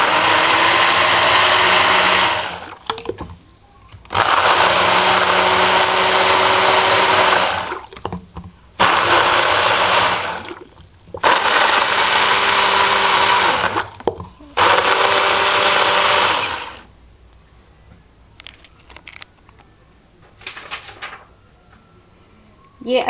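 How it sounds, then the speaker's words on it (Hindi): A kitchen blender runs in several loud bursts with short pauses between them, grinding date chutney for Gujarati bhel, then cuts off and leaves quieter handling sounds. "ये अच्छी तरह से हमने ब्लेंड कर दिया है, तो ये भी चटनी हमारी मिक्स हो गई है।"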